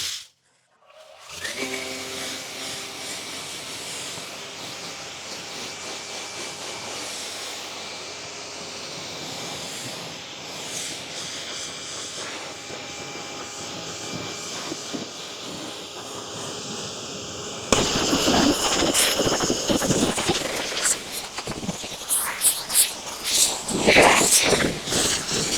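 A car being rinsed during a wash: a steady close hiss of spraying water that turns louder and harsher partway through as the spray hits the car.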